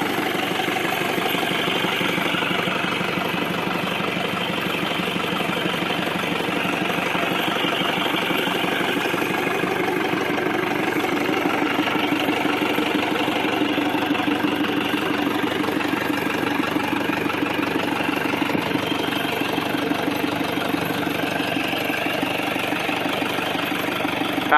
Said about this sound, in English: Isuzu 4BD1T turbo diesel engine